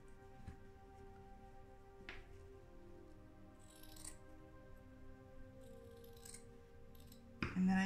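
Scissors snip quietly through paper while a balloon kiss coaster shape is cut out, giving a few faint, sparse clips with small handling rustles in a hushed room.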